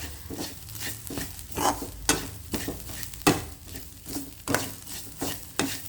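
Semolina roasts in oil in a pan for vegetable uppittu, giving a steady faint sizzle with rhythmic scraping strokes of a spoon every half second or so. No one speaks.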